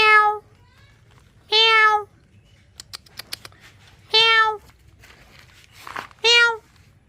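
A cat gives four clear, drawn-out meows spaced a couple of seconds apart, close and distinct, with faint clicks and handling noise in the quiet gaps between.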